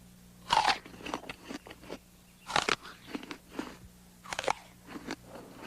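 Someone bites into a crisp, crunchy apple and chews it, giving a few loud crunches followed by softer chewing crackles, close up with no talk.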